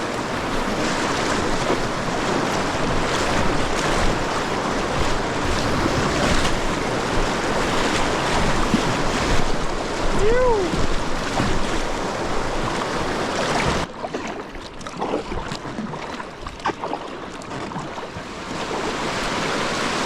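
A river rapid rushes loudly past a packraft in New Zealand, a dense, continuous roar of churning water with wind buffeting the microphone, easing into a quieter, splashier flow near the end.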